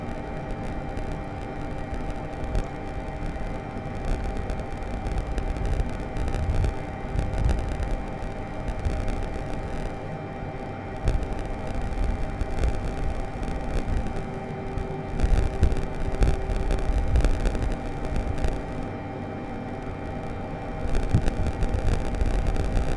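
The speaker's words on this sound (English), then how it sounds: "All we have is the engine noise." Steady aircraft engine drone from Microsoft Flight Simulator 2020, a continuous low hum with faint fluctuations that holds unchanged for the whole stretch, with no voices.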